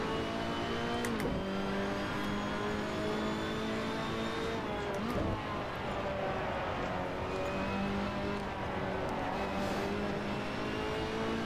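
A Ferrari P4/5 Competizione race car engine drones steadily at Mugello in Assetto Corsa, revving and shifting through gears with rising and falling pitch, loud and continuous throughout with no talking.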